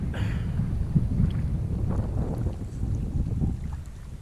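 Wind gusting across Prosser Creek Reservoir near Truckee, California, a steady low rumbling buffet of air with faint water lapping, close and continuous, without talk.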